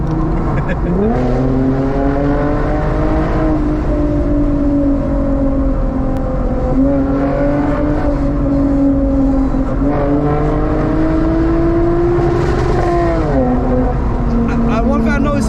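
A 2008 Lexus IS250 XE20 with a V6 engine is revved repeatedly up to the rev limiter, its loud, close engine note climbing and holding in several long surges while people talk over it.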